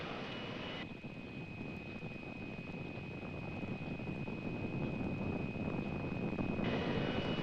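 Rocket lifting off at Kennedy Space Center: a continuous distant roaring rumble that builds slowly and grows louder over several seconds, with a steady tone running through the middle of it and no voices.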